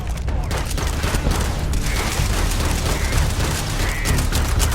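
Continuous exchange of gunfire in the space game Starfield, a thick steady barrage of overlapping shots and bursts that holds at a loud, even level throughout.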